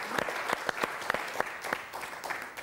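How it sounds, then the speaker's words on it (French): Studio audience on the French TV game show Des Chiffres et des Lettres clapping, a modest crowd of hands with distinct individual claps, brief and fairly soft with no talk over it. "Des applaudissements beaucoup plus fournis pour Bruno et Arnaud."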